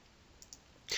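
A computer mouse button clicks once, short and sharp, after two faint ticks in a quiet room with no talking.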